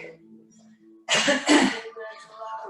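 A single sharp sneeze bursts out after a quiet moment during a kettlebell fitness class, followed by a brief gasp and faint sounds in the room.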